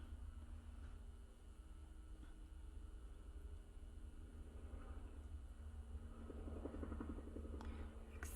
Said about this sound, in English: Excuse the helicopter noise.